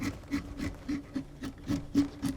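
A draw knife shaving white pine while carving a decoy, a rhythmic series of about nine short scraping strokes, close and fairly even, with no talk.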